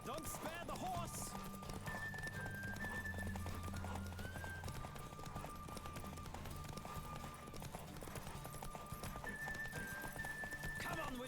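Roach the horse races flat out in The Witcher 3, hooves drumming in a rapid steady gallop with a loud neigh breaking through, layered under orchestral music and occasional speech.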